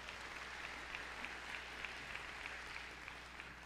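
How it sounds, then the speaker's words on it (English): A distant audience applauds student musicians, a faint, steady wash of many hands clapping with a few sharper claps poking through at a regular pace, heard from afar without talk. "I really want to give them another hand of applause"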